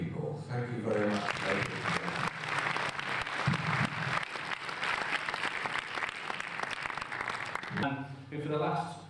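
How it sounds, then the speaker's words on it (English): Sustained audience applause at a cinema closing ceremony, a dense wash of clapping lasting several seconds, with a speaker's voice audible before it swells and again as it fades. "I would be grateful if you would show your appreciation by applauding all those people"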